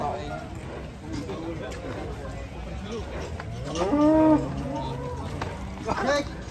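Several cows low loudly and near at a livestock truck loading, about 600 kg of cattle, with long rising moos over a busy background of people talking and handling noise.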